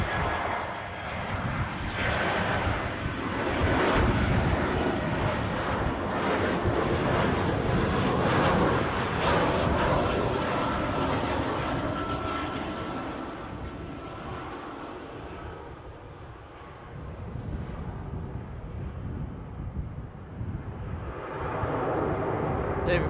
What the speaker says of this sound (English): here she comes, slight wiggle on approach, the easyJet A319 from London Luton